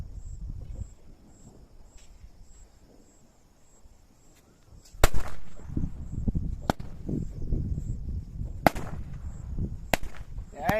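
Diwali firecrackers outdoors: after a few quiet seconds, several sharp, loud bangs go off at irregular intervals over a steady rumbling crackle of more distant bursts.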